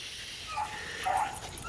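Hunting dogs on a rabbit hunt in December outdoors, thin distant yips and whimpers rising briefly over steady broadband background noise.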